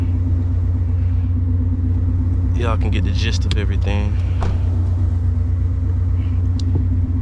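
A 2015–2023 Mustang GT's deep, loud aftermarket exhaust rumble idles steadily throughout while someone talks briefly over it.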